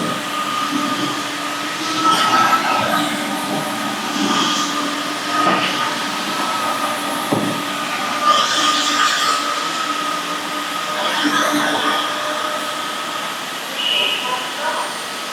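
Roborock F25 wet and dry vacuum running across a room floor, a steady broadband whir with rolling surges as it moves, heard close and continuous for the whole stretch.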